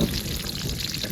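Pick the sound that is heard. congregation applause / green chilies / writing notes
green chilies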